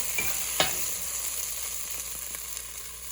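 Beef for noodle soup browns in a pan with a steady, moderate sizzle, broken by a few sharp scrapes and clinks of stirring, and no voices.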